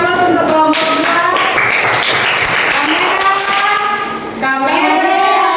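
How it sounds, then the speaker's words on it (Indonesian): An audience applauds a student group, group 2, coming up to present at a university teacher-training session: steady, dense clapping that fills the room, easing slightly near the end before swelling again, with voices faintly mixed in. "Kita berikan aplaus untuk kelompok 2."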